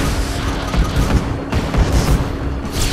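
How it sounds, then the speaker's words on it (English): Gunfire and booming blasts in the video game The Maw, a loud continuous barrage of rapid shots and explosions running throughout without pause. "Ow, got shot by a gun."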